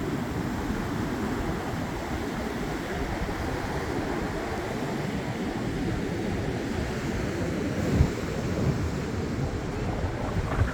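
Ocean waves wash steadily onto a cold, rainy beach in early April, a continuous broadband roar with wind buffeting the microphone and a slight surge near the end, no voices.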